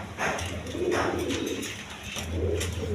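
Pigeons cooing at a Bangladeshi pigeon farm, including a single female Rajgolla pigeon, with several soft, low throaty coos repeating close by and no talk over them.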